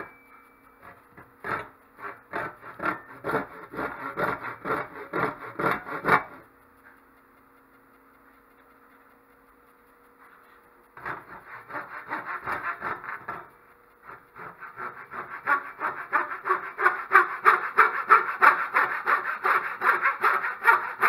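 Hand saw cutting a nock into a wooden bow, close and crisp, with rhythmic back-and-forth rasping strokes in several runs separated by a pause, growing faster and denser toward the end.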